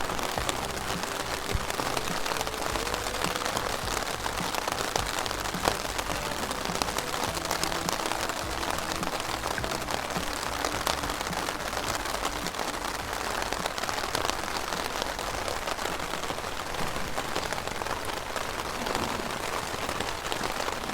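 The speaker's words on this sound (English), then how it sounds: "but it is still raining." Rain falls steadily in the woods along the Potawatomi Trail, a dense, continuous patter on leaves and surfaces that holds an even level from start to finish with no voices.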